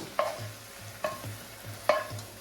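Paneer cubes fry in a pan while a spatula stirs them, giving three sharp clinks at a steady pace over a soft, low sizzle, close and fairly quiet.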